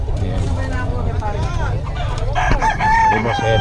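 Roosters crowing repeatedly at a festival expo, loud and close, with several birds overlapping amid clucking, a crowd's murmur and people talking nearby.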